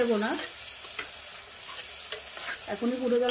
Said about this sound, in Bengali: মশলাটা কষানোর জন্য যাতে পুড়ে না যায় মশলাটা, সেই জন্য দেবো সামান্য পরিমাণে জল।